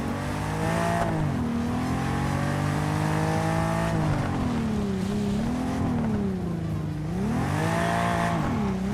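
Classic car engine in the Test Drive Unlimited Solar Crown racing game, revving continuously and loudly with rising and falling pitch as it accelerates and shifts, up close, with no talk.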